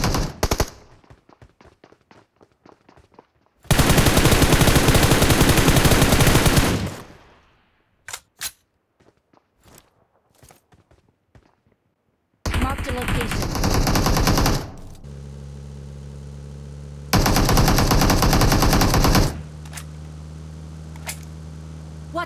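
Automatic gunfire in PUBG Mobile during a fight, with long loud machine-gun bursts separated by sparse single shots and quieter gaps, plus humming game sounds in between.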